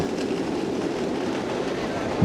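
A train rushes at speed between Chuadanga and Dhaka, a steady, loud roar of wheels and carriage noise heard from inside, unbroken throughout.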